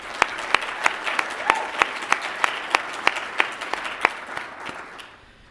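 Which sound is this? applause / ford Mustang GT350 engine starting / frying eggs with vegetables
applause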